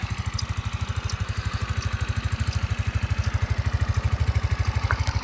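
A Suzuki Address V125 S Limited Edition scooter idles nearby with a fast, even putter of rapid pulses that holds at a steady level throughout, with no one speaking.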